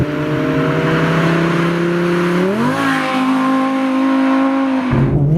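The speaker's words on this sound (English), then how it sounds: "Really fast shifts in this car." A high-revving Audi R8 V10 engine climbs steadily, with quick gear changes dropping the pitch briefly before it pulls again, loud and close inside the car.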